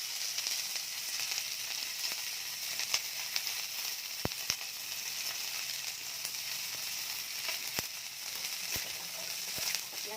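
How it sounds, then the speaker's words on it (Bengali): Chopped onions fry in oil in a pan, giving a steady, close sizzle with occasional sharp crackles and pops throughout. "পেঁয়াজ ভাজাটা হোক ততক্ষণ"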